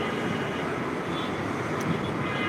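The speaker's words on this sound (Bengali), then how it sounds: "বাংলাদেশ বিমানের একটা বিমান ফ্লাই করবে এখন" A Biman Bangladesh airliner at Hazrat Shahjalal International Airport in Dhaka, preparing to take off, sends a steady distant engine roar mixed with strong wind rush, without pause.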